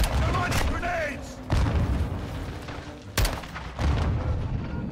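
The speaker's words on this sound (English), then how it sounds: "They're launching grenades!" Grenade blasts in a Call of Duty: Modern Warfare II (2022) campaign battle at Al Mazrah, with sharp booms near 1.5 and 3.2 seconds over constant gunfire and rumble.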